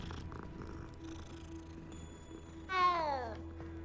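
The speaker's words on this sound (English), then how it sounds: "Oh, you can pet the cat." A petted cat in Hogwarts Legacy gives a soft purr and then a brief rising meow near the end, over a low ambient game hum, with no talk.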